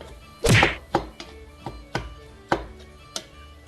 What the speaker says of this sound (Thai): ผัดจนมันออกสีน้ำตาลเลย เราก็จะผัดไปจนหมูแฮปปี้นะคะ